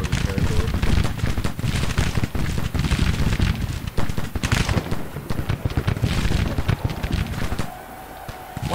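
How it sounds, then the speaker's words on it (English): Massed Civil War infantry musket volleys from Grand Tactician, dense crackling rounds of gunfire rattling continuously at a distance, thinning out toward the end, with a voice speaking over parts of it. "let's get these guys firing at long range"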